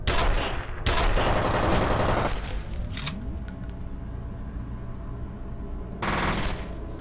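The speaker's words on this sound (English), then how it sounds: "I'm firing like bolts into their bodies or something." Rapid gunfire in the F.E.A.R. shooter game, dense loud bursts that stop and restart, leaving a ringing decay and faint metallic tinkles between volleys.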